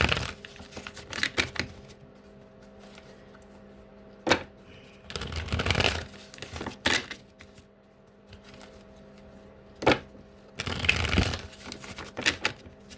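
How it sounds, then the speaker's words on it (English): A deck of tarot cards is shuffled in several crisp, riffling bursts separated by quiet pauses, each flurry of card-flapping close and clear, with no talking. "You just saw me shuffle."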